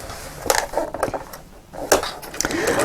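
A sewing machine back-stitches at the point of a dart, fabric placed right sides together: a few loud, close mechanical bursts of stitching with brief stops between them.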